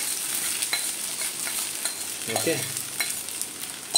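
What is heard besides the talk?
stirring sabudana khichdi in the pan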